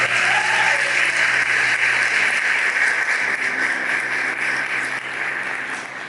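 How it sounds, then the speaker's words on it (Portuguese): A dense, sustained wash of applause from a large crowd at a religious gathering fills the whole stretch, loud and steady before easing slightly at the end. "Dá uma salva de palmas para Jesus."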